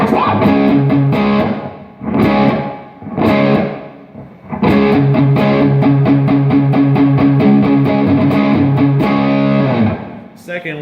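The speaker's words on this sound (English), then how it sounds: "The next bank up is the plate reverb bank" Distorted electric guitar chords through a plate reverb pedal ring out with a lush, spacious reverb tail, played loud in bursts then sustained strums.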